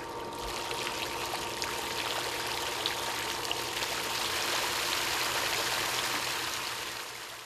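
A Fountscape rock fountain's pump drives water jets out of a decorative rock, giving a steady, broadband splash and trickle of falling water that holds evenly throughout.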